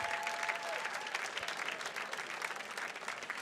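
An audience at a fundraising gala applauds steadily, a dense, even wash of many hands clapping that holds at a constant level throughout, slightly distant and without voices standing out.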